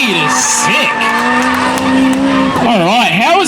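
A race car snaps sideways through the centre of the course, its tires squealing loudly and continuously with a wavering, rising and falling pitch over engine roar and commentary.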